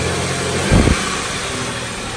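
A 2003 Buick Century with a 3.1 liter engine idles steadily on a cold start, holding a constant loud drone with one short bump of heavier rumble and no voices.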